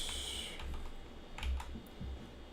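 A computer keyboard is typed on during a website-building session, giving quick irregular bursts of key clicks at close range with no talk.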